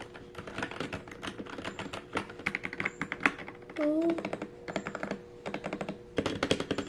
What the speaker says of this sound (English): this is my first mechanical keyboard